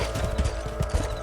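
Horse hooves gallop in the Red Dead Redemption video game, a quick, uneven clip-clop rhythm of several hoof strikes over a steady low background of in-game ambience.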